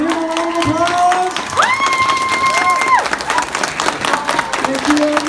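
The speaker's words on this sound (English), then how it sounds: "Let's give him a round of applause." Applause and cheering from an audience at a Bak-Anime 2019 anime convention panel, with loud shouts and whoops rising over steady clapping throughout.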